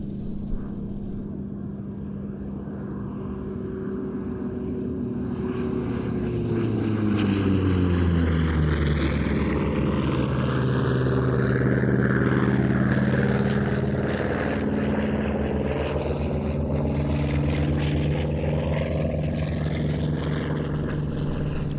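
An F4U Corsair propeller warplane in Korean War night-fighter markings makes a display pass at an airshow in Leszno, its loud, rough piston-engine drone swelling and bending lower in pitch as it sweeps past.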